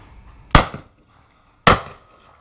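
A Beretta 690 Sporting Black Edition shotgun fires twice outdoors, two loud sharp blasts about a second apart, each with a short decaying tail and quiet between.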